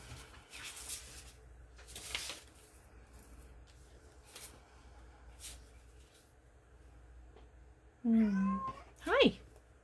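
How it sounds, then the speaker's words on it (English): A house cat meows twice near the end, close and clear after a quiet stretch of faint paper and glue handling sounds. "Here comes the cat."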